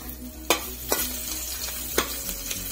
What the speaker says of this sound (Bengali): পেঁয়াজটা ভেজে নিচ্ছি জিরে হাতে লাল করে ভেজে দিব।